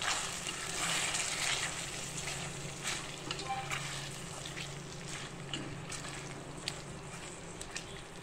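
Potatoes coated in green masala sizzle and crackle steadily in a pan while being stirred, with a close, continuous frying hiss and occasional scraping clicks.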